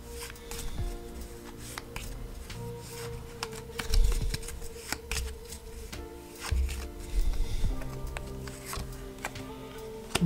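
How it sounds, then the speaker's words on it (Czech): Soft papery shuffles and slaps of cards being handled and set down on a surface, repeated irregularly over a low background hum. "Tak, já si na to tady dovyložím karty."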